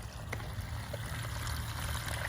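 Water from a garden hose running through a pipe trenched under a slab or sidewalk, a steady, soft rushing trickle with a low continuous flow.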